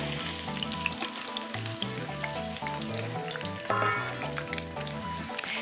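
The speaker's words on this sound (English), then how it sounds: "And just toss that through until it's all coated nicely, and then let that saute for about 10 minutes" Eggplant sautés in oil with a continuous crackling sizzle, close and even, with light tossing and scraping sounds mixed in.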